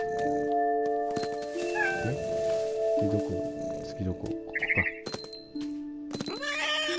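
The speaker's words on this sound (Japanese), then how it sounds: "猫いいね。" A cat meows in a video game set in a strange family house, with short game cries and effects heard beneath steady talking from a player.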